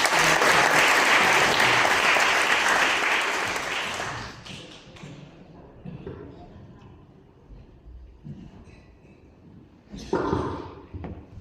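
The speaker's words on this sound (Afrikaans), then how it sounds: "Kom ons gee vir die dames en die hande klap." A church youth-service congregation gives the ladies a round of applause, loud dense crowd clapping that fades out after about four seconds, followed by quiet room noise, a few knocks and a brief burst of sound near the end.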